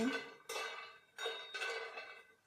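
Raw peanuts poured into a second pan for dry roasting, two quick rattling showers of nuts hitting the metal, each fading away, quiet and close with no talking.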